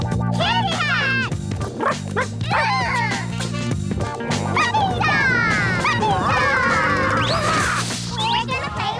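A cartoon puppy in a Garfield episode yips and barks in quick high bursts, mixed with whooshing effects, music and excited voices talking over it.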